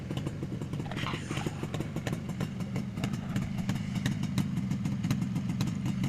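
A two-stroke Yamaha RD350LC motorcycle engine warming up, idling steadily with a rough, popping low rumble and faint rattling, continuous throughout at close range.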